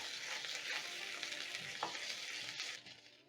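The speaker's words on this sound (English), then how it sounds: "Then you're going to saute the onions until soft." Onions with garlic and ginger sautéing in hot oil for Swahili meat cutlets, an even, close sizzle with faint stirring scrapes that fades out at the very end.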